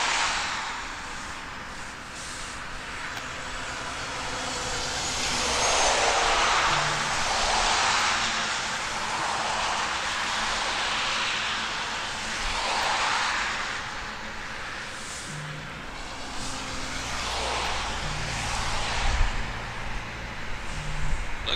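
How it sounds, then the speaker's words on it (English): An Air Canada Boeing 777 taxis at Toronto Pearson Airport, its jet engines giving a steady distant roar that swells and fades in broad waves under a low rumble, with no voices. "Looks like a 777 taxiing along as well."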